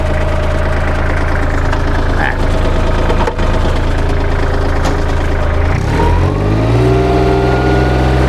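A 2009 Kubota L3408 tractor engine runs steadily with its rear PTO spinning, a loud, close diesel drone with harmonic hum; around six seconds the tone shifts and rises as the load or revs change, with no talk over it.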